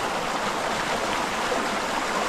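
A flooded river flows steadily nearby, a loud, continuous rushing wash of water with no pauses.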